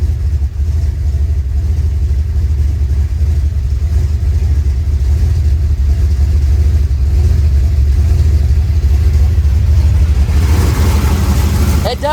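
A rebuilt 383 V8 in a car idles with a loud, steady low rumble, even and continuous, slight exhaust leaks at the V-band clamps, rising briefly near the end.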